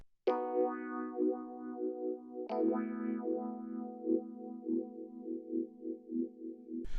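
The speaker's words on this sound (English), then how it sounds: "I used the Vintage Vibe EP Juicy Tremolo, which sounds like this" Vintage Vibe EP Juicy Tremolo electric piano patch from Omnisphere playing two sustained chords, each with a bright attack and a warm, wavering tremolo shimmer as it rings out, heard alone with no talking.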